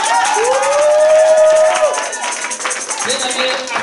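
A church congregation cheers and calls out in praise of the Lord at a lively worship service, a dense crowd roar with shouts and one sustained raised voice rising over it before the noise breaks into scattered calls.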